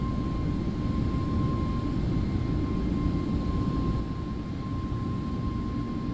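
Airbus A321neo jet engines in X-Plane 11 flight simulation, a steady loud cockpit drone with a constant tonal hum, running alone throughout and easing slightly near the end.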